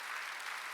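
Congregation applauding during a Wednesday evening church service, a brief burst of dense, steady clapping with no talk over it.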